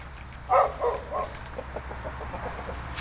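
Chickens in their leaf-covered outdoor run make a few soft clucks and short calls, one louder burst early on then quieter scattered clucking over a steady low background hum.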